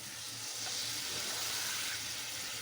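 Water poured into a sizzling, well-fried spice paste in a cooking pot, giving a steady, loud hiss and bubbling that fills the whole moment without any talking.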